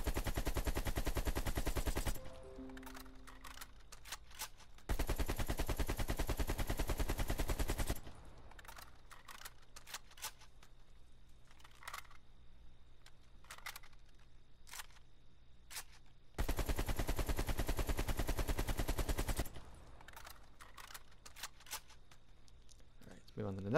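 AK assault rifle fire in Call of Duty Cold War Zombies comes in sustained automatic bursts, three long loud volleys separated by quieter gaps with clicks and game sounds, with a player talking in between.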